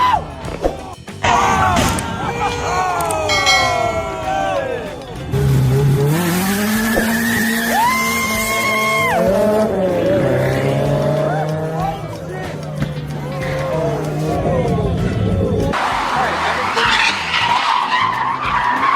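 A race car skids off the track at speed, with a long screech of sliding tires, engine wails and crowd noise, while a commentator talks excitedly throughout.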